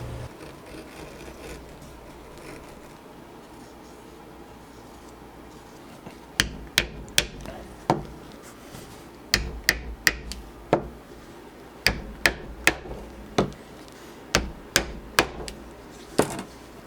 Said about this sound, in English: all the holes are punched now